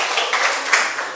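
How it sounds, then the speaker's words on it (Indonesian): A school class claps together in a brief, fairly quiet burst of dense, even hand-clapping that lasts about a second. "tepuk tangan semuanya"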